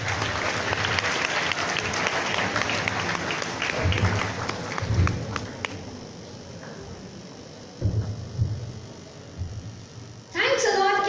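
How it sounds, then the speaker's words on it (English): Audience applause at a Children's Day celebration, a sustained crowd clapping that thins out and fades, with voices and a brief burst of other noise toward the end. "applause."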